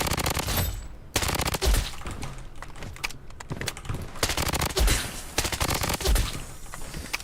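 A suppressed VSS rifle in the Blood Strike game fires in rapid repeated bursts, with sharp muffled cracks in quick succession and brief gaps between strings of shots, loud and close throughout.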